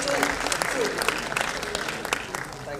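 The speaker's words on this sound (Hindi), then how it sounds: "एक बार फिर जोरदार तालियां तो जूही चावला" A crowd at the Dada Saheb Phalke Academy Awards red carpet gives loud, continuous applause for actress Juhi Chawla, with dense clapping that fills the whole stretch and a voice speaking over it.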